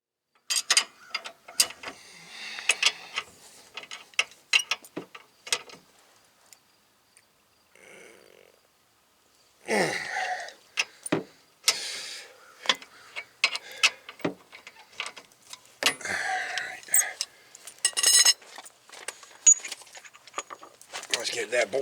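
A ratchet works a stubborn bolt out of a 2015 Buick Enclave rear knuckle assembly: bursts of quick clicking pawl strokes, close and fairly quiet, with a pause midway and metallic clinks between runs.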